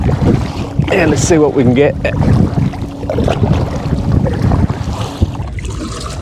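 A fishing kayak is paddled across Botany Bay under steady wind buffeting the microphone, with soft water swishes, and someone speaks briefly over the noise.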